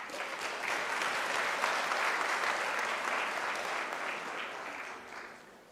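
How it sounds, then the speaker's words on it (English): Sustained applause from a graduation ceremony audience at a university in South Africa, a broad even wash of clapping that holds steady for several seconds before thinning near the end. "Let us give her a round of applause."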